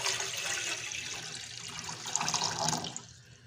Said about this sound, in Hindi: इस पैन में हम 1/2 लीटर पानी डाल देंगे।